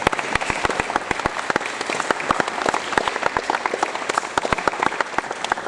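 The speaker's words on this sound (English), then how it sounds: "give another round of applause for Lamar" At a basketball program's award ceremony, the audience gives another round of applause: crisp, individually distinct hand claps layered over a dense crowd clapping, sustained and fairly close.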